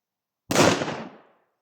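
A single firecracker goes off during an outdoor test of different firecracker types, one loud sharp blast after a short silence with a quick decaying crackle and no other sound around it.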